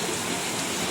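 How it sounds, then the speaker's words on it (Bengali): Heavy rain pours steadily outside, a dense, even hiss of falling water that stays constant and close throughout the short moment, with no voices over it. "বাবা খুব জোরে মুষলধারে পানি পড়ছে"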